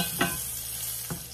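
Garlic and onion sautéing in pork fat for pinakbet, a steady close sizzle of frying with two brief stirring scrapes, no talking.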